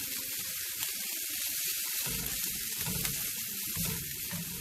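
Mature end-of-season kale sautés in a pan for a clam pasta, giving a steady close sizzle and crackle with occasional stirring, and no voices.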